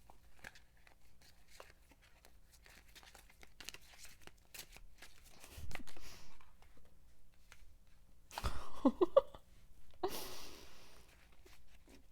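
A deck of cards being shuffled by hand: soft scattered flicks and rustles, then two louder riffling bursts with crisp papery snaps, close and intimate, with occasional breathy sounds between.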